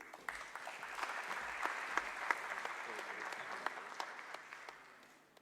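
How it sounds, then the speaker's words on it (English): An audience at a trade and investment indaba and World Halal Day event claps steadily and fairly faintly, the applause holding for several seconds before tapering off at the end, with no voices over it. "Can we have a round of applause,"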